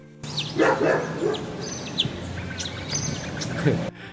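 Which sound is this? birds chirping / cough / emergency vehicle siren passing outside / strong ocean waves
birds chirping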